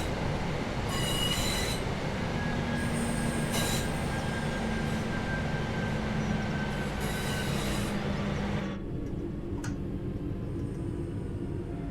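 A train in Train Sim World 3 brakes into a platform with a steady rumble of wheels on rails, high wheel squeals recurring over it, then the noise drops as it slows to a stop.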